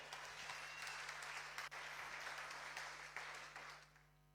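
A church congregation applauds steadily, dense clapping that holds for several seconds before gradually fading.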